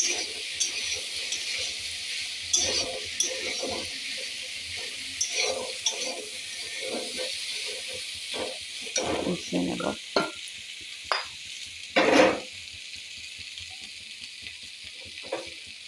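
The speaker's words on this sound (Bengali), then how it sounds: "ভালোভাবে নাড়াচাড়া করে এবারে মিশিয়ে নেব।" Turmeric, cumin and coriander powder being stirred in a frying pan in a village kitchen, a steady broadband sizzle with repeated scraping strokes of the spatula, some louder knocks near the end.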